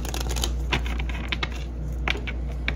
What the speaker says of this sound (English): Let me get two more shuffles.